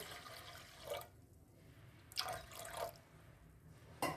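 Water pouring into a pressure cooker over washed lentils, coming in short gurgling bursts with pauses between them, close and fairly quiet in a kitchen.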